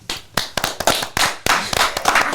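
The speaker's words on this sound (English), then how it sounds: "let's get a round of applause for over a year into the pod" A small group of podcast hosts claps in an irregular patter of sharp, close hand claps, loud and uneven, celebrating a show anniversary with no talking over it.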